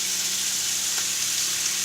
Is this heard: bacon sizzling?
yes